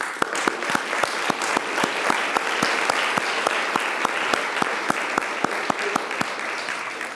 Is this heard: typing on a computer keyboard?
no